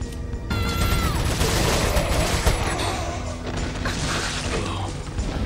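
Gunfire from Resident Evil 4 during a truck ride, a dense, loud, continuous clatter of mechanical bangs and crashes with no clear gaps, layered over constant game noise and music.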